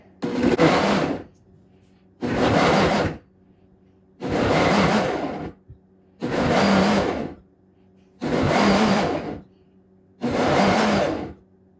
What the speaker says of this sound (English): I'm just gonna pop it in my blender.